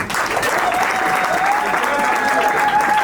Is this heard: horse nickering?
no